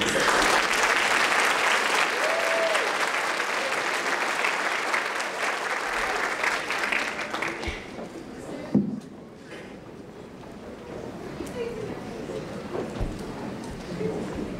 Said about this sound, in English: you'll give them a round of applause.